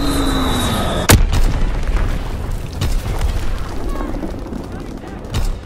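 Bombs explode in a World War II shooter game, with a sharp loud blast about a second in, then further booms and distant rumbling impacts beneath a steady battle drone, with a faint voice under the action.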